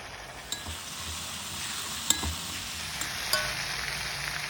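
Potato pieces tossed with turmeric, salt and curry powder roast in a little oil, giving a steady, even sizzle with a few faint clinks of a utensil against the pan.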